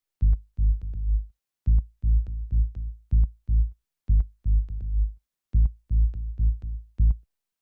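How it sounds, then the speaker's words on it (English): Deep synth bass plays a syncopated deep lo-fi house line of short, punchy low notes separated by silences, clean and alone. "The next layer we have here is the bass"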